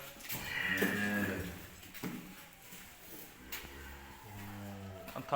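A Jersey cow for sale in Punjab lets out a loud, drawn-out moo nearby, followed by quieter lowing and a second moo, with farmyard background noise.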